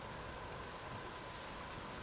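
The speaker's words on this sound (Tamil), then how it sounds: "பயங்கரமாக காற்றடிக்குது, பயங்கரமாக மழை பெஞ்சிட்ருக்குது" Heavy rain with strong wind in the video game Days Gone, a steady dense wash of noise that holds evenly throughout with no voices.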